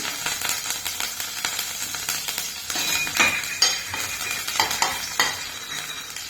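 Garlic and curry leaves frying in an Indian pan for amla chutney, a steady close sizzle with scraping stirs and a few metallic clinks, no voices.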